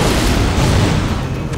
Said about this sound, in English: Greek fire was a deadly weapon that kept Constantinople safe for hundreds of years.